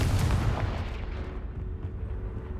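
A Confringo fire spell blast in the Hogwarts Legacy video game inside a haunted house, one loud booming explosion at the start rumbling and decaying over a couple of seconds.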